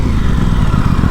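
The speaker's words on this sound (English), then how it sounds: "the Aprilia had the best, like, OEM, just normal exhaust note" Loud, close exhaust note of an Aprilia Tuono 660 motorcycle while riding, a dense, steady, low-pitched engine throb with no other sounds.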